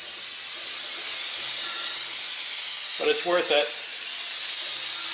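Brake cleaner hisses in a steady, loud spray onto old undercoating on a 1968 Triumph TR250 under restoration, with a person speaking briefly over the continuous spray.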